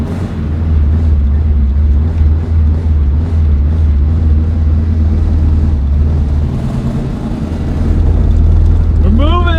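An old Saab 96 barn-find car idles with a steady low engine rumble that builds toward the end as it pulls away, with voices talking over it throughout.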